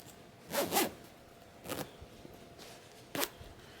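The zipper on a crocheted open-out box pouch gets pulled in three quick separate strokes, each a short, close zipping rasp with quiet pauses between.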